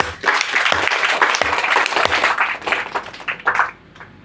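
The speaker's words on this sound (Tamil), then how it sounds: "கைதட்டுங்க எல்லாரும்." A seated audience at a spiritual presentation on the subconscious mind, led by Swami Nityananda Saraswathy, breaks into dense, loud, sustained clapping that thins into scattered claps before dying away.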